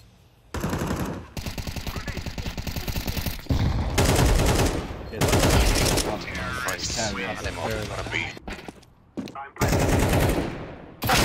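Rapid bursts of automatic gunfire crackle loudly in several long volleys separated by brief pauses, in the video game CS2.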